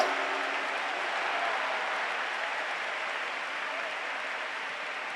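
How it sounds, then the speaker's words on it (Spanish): A church congregation applauding loudly during a Spanish-language sermon, a dense, continuous roar of clapping that holds at a steady level throughout. "denle un fuerte aplauso al Señor"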